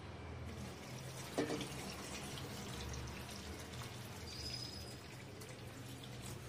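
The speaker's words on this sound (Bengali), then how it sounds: "পুরোটার পরিমাণে জল দেব।" Water pouring into a pot of veg khichdi, a steady broadband rush with a brief louder splash near the start, low and continuous throughout.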